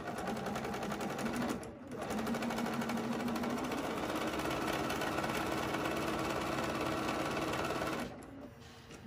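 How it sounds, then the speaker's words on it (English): A sewing machine stitches fabric triangles with a quarter-inch seam, running as a steady, fast mechanical whir that stops briefly twice, close and alone without talk. "And then I'll just sew with a 1/4 inch seam allowance."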